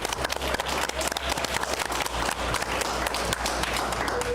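An audience at an estate planning seminar claps energetically, producing loud, dense, continuous applause with sharp individual claps standing out over a low steady hum.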